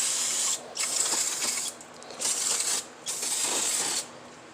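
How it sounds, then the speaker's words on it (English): Aerosol parts cleaner sprayed onto the front brakes of a Yamaha Wolverine X2, heard as three close, loud hissing bursts of about a second each separated by short pauses, with no talking. "now I'm just going to spray everything down a little bit with some parts cleaner"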